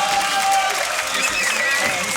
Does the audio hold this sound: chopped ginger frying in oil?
no